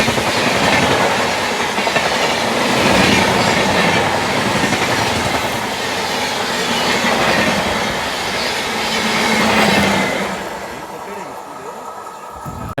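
Simhadri Express on an Indian railway line, a loud steady rumble of wheels on rails with rhythmic clickety-clack, continuous and close for most of the run before easing quieter near the end.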